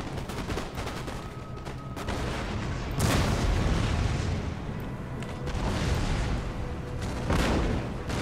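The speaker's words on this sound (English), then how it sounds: "here come the first musket shots go in" Musket volleys in Empire: Total War battle, repeated crackling bursts of massed gunfire with heavy booms, dense and loud, rolling in waves throughout without pause.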